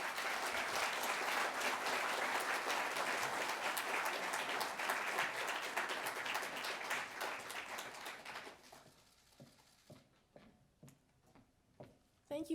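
An audience in a large hall welcomes Secretary Condoleezza Rice at an awards ceremony with loud, sustained applause. The clapping thins out to a few scattered, separate claps near the end.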